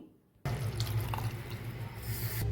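Water starts suddenly and pours steadily into a pot of lentils for dal for about two seconds, a close, continuous splashing rush.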